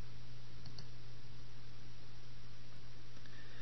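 A couple of faint, quick mouse clicks on Remove Background in Excel, heard close together early on over a steady low electrical hum, otherwise near-silent.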